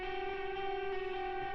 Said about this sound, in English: So for all of the ambient guitars, they have their own instance of reverb.